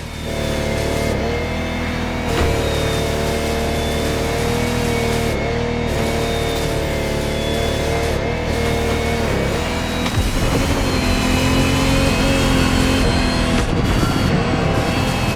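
Lamborghini Technomar speedboat engines in The Crew Motorfest racing game, revving hard in a loud, continuous roar with rising and falling pitch that holds steady for the whole stretch.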